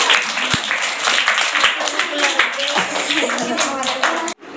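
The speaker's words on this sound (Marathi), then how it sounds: "हा ठीक आहे, टाळ्या याच्यासाठी." A room full of people claps for a student's homemade cooler project at a National Science Day school event, dense and sustained applause with voices mixed in, stopping abruptly near the end.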